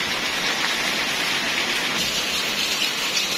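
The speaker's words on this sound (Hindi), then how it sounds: "इतनी तेज बारिश है, इतनी तेज बारिश है।" Heavy rain pours down outside a home, a dense, constant hiss of water striking surfaces that stays loud and unbroken throughout.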